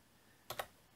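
Two quick, close keystrokes on a BT21 wireless retro keyboard (Cooky version), crisp clicks a split second apart amid near silence.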